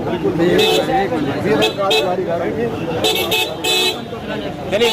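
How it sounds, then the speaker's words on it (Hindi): A car horn toots in several short bursts as a vehicle arrives at a crowded political event in Satna, amid loud, continuous chatter and greetings from the crowd. "गाड़ी आ रही"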